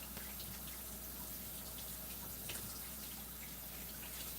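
A kitchen tap runs steadily while an item is washed beneath it, a faint, even stream of water with slight splashing and no talking.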